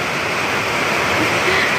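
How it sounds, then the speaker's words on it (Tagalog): Very heavy rain pouring in a continuous, dense hiss, loud and even throughout, with no break. "Yun na yun, sobrang lakas ng ulan, no?"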